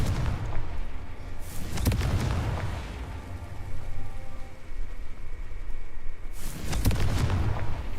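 In the video game Hogwarts Legacy, the Confringo explosive spell produces loud booming blasts, one near the start and another later, over a continuous rumbling game background.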